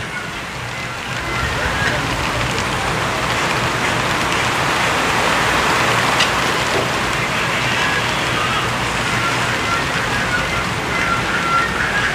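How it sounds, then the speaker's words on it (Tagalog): Steady heavy typhoon rain pours down at the Palarong Pambansa sports meet in a dense, unbroken hiss, with faint crowd murmur underneath throughout. "At ayan na po yung ulan."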